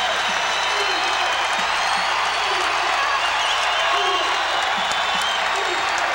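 A basketball arena crowd at a college game, Indiana against Minnesota, roars and cheers in a loud sustained wall of noise with scattered claps and whoops, while a commentator talks over it.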